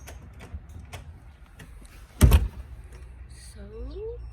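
A single solid thud as a door is shut, short and fairly close, standing out from quiet background noise with faint movement around it.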